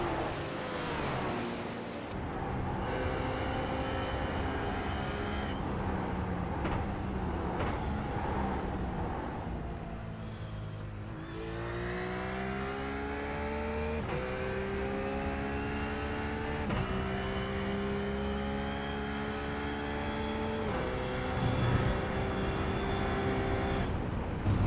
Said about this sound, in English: Those RUF cars are working pretty hard to catch those supercars tonight.